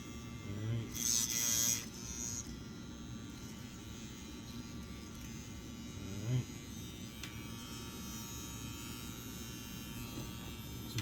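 A CNC X-WE wireless tattoo pen runs with a steady, smooth electric buzz, louder for a brief stretch near the start and briefly rising again midway, otherwise holding an even hum.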